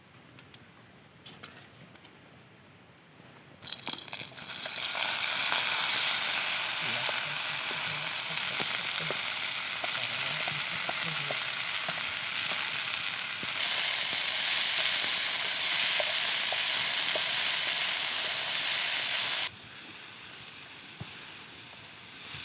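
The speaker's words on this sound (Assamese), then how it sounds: "এয়া আমি মিঠাতেল দিলোঁ। খিনি গৰম হোৱাৰ পিছত কলমৌ শাকখিনি ভাজি ল'ম।" Water spinach (kalmou greens) frying in hot mustard oil gives a loud, steady, close sizzle that starts abruptly after a few quiet seconds and holds, with occasional crackles and stirring ticks.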